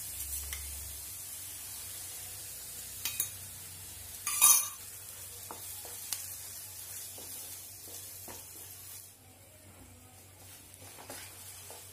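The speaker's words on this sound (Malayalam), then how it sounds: "നമ്മുടെ മുട്ടത്തോരൻ ഇടയ്ക്ക് ഒന്ന് ഇളക്കി കൊടുത്തോളണം" Egg thoran sizzles softly in a pan while being stirred, a faint, low frying hiss broken by spatula scrapes and a few clinks against the pan.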